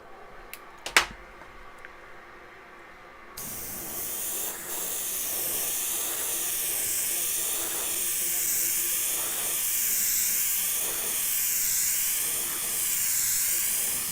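An airbrush sprays intercoat clear in a steady, continuous hiss that runs loud and close for about ten seconds, preceded by a few faint clicks and a short sharp tap.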